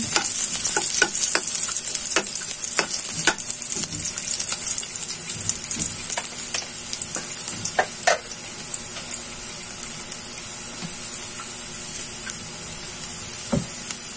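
Squid pieces sautéing in a pan for adobo give a steady, close sizzle, with sharp scraping clicks of a utensil stirring through the first half and softer tapping later.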